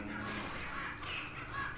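Chickens clucking in the Resident Evil 4 video game, a steady busy mix of bird calls and game ambience throughout with no talking.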